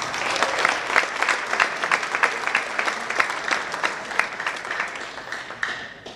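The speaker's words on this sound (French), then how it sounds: "Merci d'applaudir, Per Guerel." Dense, lively audience applause for a table tennis player being introduced before a club team match, a steady wash of many hands clapping at once that thins slightly toward the end.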